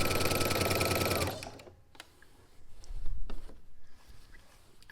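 A sewing machine runs steadily while stitching robe fabric being turned into a swimsuit cover-up, loud and continuous for about a second and a half, then stops, leaving quiet handling noises and faint fabric rustles.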